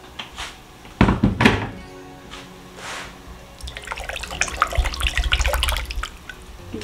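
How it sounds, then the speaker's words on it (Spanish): Water is poured into a blender jar to rinse out leftover chili sauce, with a few hollow thunks of the jar followed by a splashing, gurgling pour in the second half. "le voy a poner un poquito de agua para enjuagar y aprovechar el chile que se quedó en el vaso"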